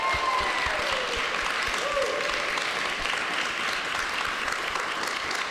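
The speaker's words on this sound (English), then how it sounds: "Let's have a round of applause for them" An audience applauds support teams at a university 24-hour broadcast, a steady wash of moderate clapping with faint voices and a brief tonal sound partway through.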